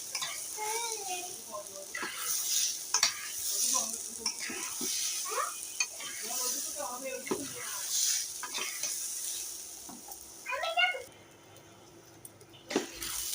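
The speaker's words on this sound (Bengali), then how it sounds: "আর একটুখানি লবণ দিয়ে দিলাম লঙ্কা দিয়ে দিলাম কষিয়ে নেবো আর একটু" Vegetarian khichdi is stir-fried with salt and chili in a pan, giving a steady sizzle with scraping stirring clatter throughout, under intermittent speech, near and moderately loud.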